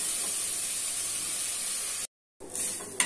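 Onions sizzle and hiss steadily as they are sautéed in a clay pot, a close, constant frying noise that cuts out briefly and then returns.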